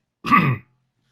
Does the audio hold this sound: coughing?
yes